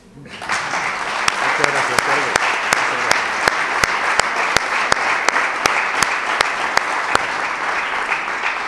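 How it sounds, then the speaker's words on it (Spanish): Audience applauds at a mayor's presentation of a heritage route in Chiclana, a sustained, loud crowd clapping nearby with sharp regular claps or knocks punctuating it steadily. "ya del tirón para él otra vez un aplauso"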